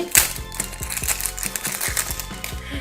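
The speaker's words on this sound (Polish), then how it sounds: "Muszę sobie pomóc nożyczkami." Scissors snip through the plastic packaging of an LOL Surprise doll toy, a close, steady run of about a dozen crisp, evenly spaced cuts and clicks with no voice.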